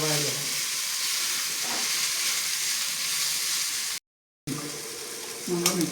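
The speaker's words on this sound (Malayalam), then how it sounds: "നമുക്ക് അതിൻ്റെ കൂട്ടത്തിൽ ചീമച്ചക്കയും കൂടെ ഒന്ന് വഴറ്റിയെടുക്കാം" Onions and chopped chow chow being sautéed together in a pan give a steady broadband sizzle with stirring scrapes, broken by a brief silent gap and a few clatters near the end; no voices.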